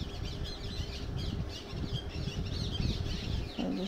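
Colourful parrots and lovebirds in a zoo aviary in Chittagong squawk and chatter. The calls are thin and overlapping, steady throughout at moderate distance, over background crowd noise.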